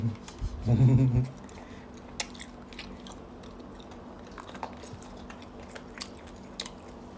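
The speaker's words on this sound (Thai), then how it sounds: "หนวดมันกรึบหนึบหนึบมากเลยนะ" Someone bites and chews crunchy grilled squid tentacles close to the mic, a loud burst of crunching early on, then scattered soft chewing clicks.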